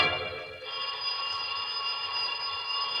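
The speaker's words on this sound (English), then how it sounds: "And then the phone rang again." A telephone rings in a 1945 radio drama, a steady bright ringing tone that lasts the whole stretch at moderate level with no talk over it.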